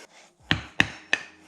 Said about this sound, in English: Let's use a hammer and a wooden block to knock these off.